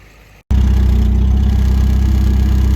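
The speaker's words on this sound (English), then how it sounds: "now that the little tractor here has had a moment to warm up" A 1961 International Harvester Scout 80 engine idles steadily while warming up, starting abruptly after a brief quiet moment and then holding a loud, close, even low rumble with no talk.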